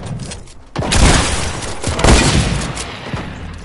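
Sniper rifle fire in a video game: a loud, booming shot with a crackling tail, followed by a second heavy blast about a second later, close and forceful over faint background noise.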